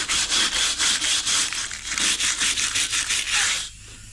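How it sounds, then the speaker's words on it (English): Rhythmic back-and-forth scratching of a wire brush scrubbing rust off metal trim from a 1948 Chevy truck, about a dozen quick harsh strokes close up, ending abruptly. "So basically I'm using wire brush."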